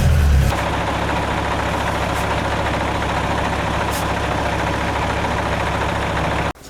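A 1985 MAN 26.361 truck engine idles with a steady, even low drone close by, preceded by a brief louder thump at the start and cutting off abruptly near the end.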